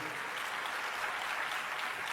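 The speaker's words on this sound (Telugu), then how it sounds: "చప్పట్లు కూడా దేవుని మహిమపరచండి" A church congregation applauds in a dense, continuous wash of many hands clapping at once, holding an even, moderately loud level throughout.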